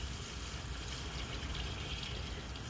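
Milk streams steadily from a carton into a pan in a home kitchen, a continuous close pouring gush with no break and no talk.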